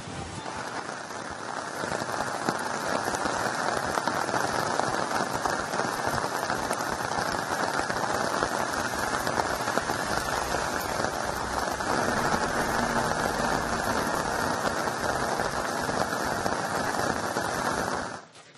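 Heavy monsoon rain pours across Dakshina Kannada district as a dense, steady roar of drops hitting surfaces, loud and unbroken for the whole stretch, with no voices.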